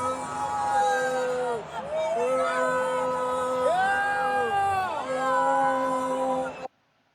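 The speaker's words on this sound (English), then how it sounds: "here's Donald Trump getting booed at the US Open" A large US Open tennis crowd booing Donald Trump, long sustained boos and jeers swelling and overlapping at close range before cutting off abruptly near the end.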